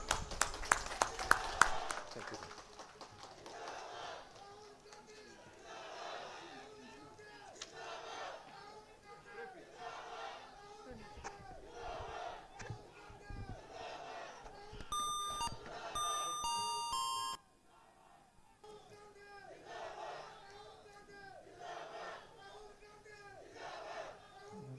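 A crowd at a Congress party election rally in Manipur cheers and chants in waves, a long loud roar with rhythmic shouting, punctuated by a brief electronic chime before fading to quieter crowd noise.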